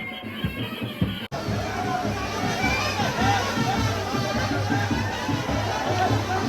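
A dense crowd gathers at the Ekvira Aai palkhi procession in 2025, a steady hubbub of many voices and shouts filling the air, with a person talking nearby over the babble.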